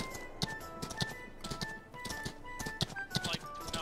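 Horse hooves clip-clopping in the video game Rust, a steady rhythmic trot of crisp repeated hoofbeats with faint tonal game sounds in the background.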